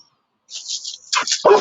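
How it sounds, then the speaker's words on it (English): A dog reacts to a seagull flying low overhead. Its short, high, yelping barks and whimpers come close and fairly loud after a moment of silence, with no talk. "You have to excuse the dog. There is a seagull flying very low."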